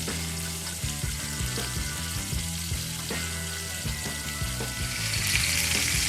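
Pork tenderloin rubbed with salt sizzles in hot oil with garlic and star anise, a steady bright crackle running throughout with low rhythmic thumps underneath, the sizzle swelling slightly near the end.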